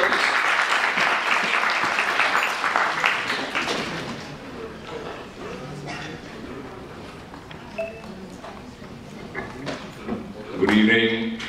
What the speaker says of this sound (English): Amidst your thunderous applause, could I please welcome the one and only Javed, Jaffrey, here please.